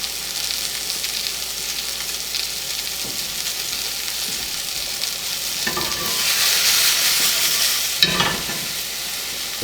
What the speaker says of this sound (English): I'm gonna add the cabbage now.